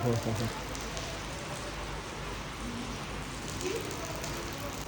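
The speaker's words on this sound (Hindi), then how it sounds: "अभी सुबह का टाइम है और बारिश शुरू हो गई है।" Steady morning rain patters on surfaces in the mountains during solo camping, a constant hiss, moderately loud and unbroken, with a faint voice briefly at the start.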